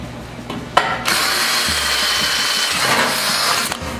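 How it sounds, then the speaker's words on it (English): A power drill whirs steadily and loudly at close range, drilling a hole in metal, starting with a brief burst and then running continuously with slight shifts in pitch. "we'll drill a hole in here."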